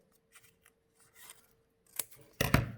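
Scissors snip through folded paper parts for an origami model, a few soft, faint cuts followed by two sharper, louder close snips at the end.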